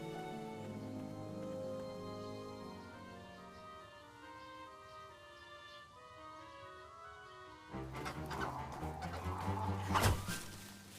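A chicken in the King's Quest video game clucks in a short series of pitched calls over a quiet game soundtrack, followed by a louder burst of busier game sound.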